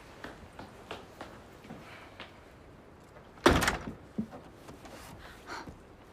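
A door in a haunted museum sounds with a sudden loud thud or slam midway, amid soft shuffling and faint movement noises, then quieter clatter afterward.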